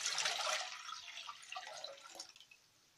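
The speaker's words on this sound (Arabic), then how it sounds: "هجيب حلة وهنزل لتر مية" Water poured into a cooking pot for sweet potato compote, a steady splashing stream close by that is strongest at first and gradually thins and fades over a few seconds.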